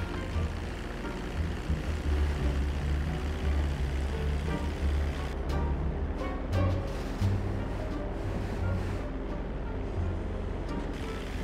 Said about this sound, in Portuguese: Tucano do EB iniciando decolagem.